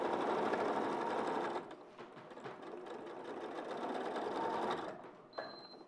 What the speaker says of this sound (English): I'm just stitching to divide the pockets, and I'm stitching on the outer, just inside the seam, on the outer pocket